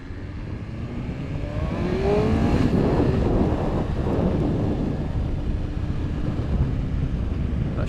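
A BMW S1000RR motorcycle engine revs and climbs through gears at speed, a loud rising whine with pitch sweeps as it shifts, heavily buffeted by wind roar on the microphone throughout.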